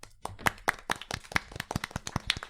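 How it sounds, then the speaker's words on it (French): A small group applauds the columnists at the end of a show, with distinct, uneven hand claps close to the microphone in a sparse rhythm for a couple of seconds. "Oui, les chroniqueurs, on peut vous applaudir."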